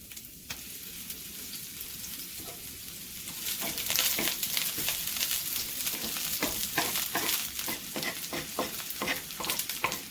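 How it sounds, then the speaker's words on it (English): Onions hit a hot pan of cooking oil and fry with a steady crackling sizzle that swells louder after a few seconds, with scattered sharp pops and stirring scrapes throughout. "In a hot pan, add in a spoon of cooking oil, followed by the onions,"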